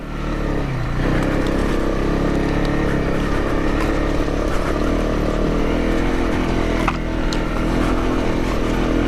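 Honda CRF 250 Rally motorcycle ridden along a North Devon trail, its engine a loud, close, continuous drone with slight rises and dips and wind rush throughout.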